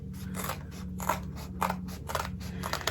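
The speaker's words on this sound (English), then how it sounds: "So make sure you're cutting straight across and not cutting at an angle, because you'll cut those stitch lines." Scissors trim excess fabric bulk from a zipper bag, a series of close, crisp snipping cuts repeating roughly every half second over a low steady hum.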